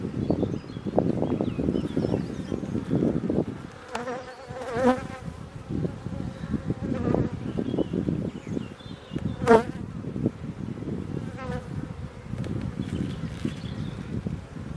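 Honeybees buzz loudly around an open hive frame during an inspection, a dense, wavering drone with individual bees passing close to the microphone; no one speaks.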